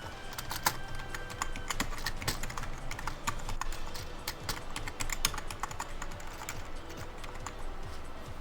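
Fingers tap on a computer keyboard in fast, continuous bursts of sharp clicks, close and fairly loud throughout with no voices.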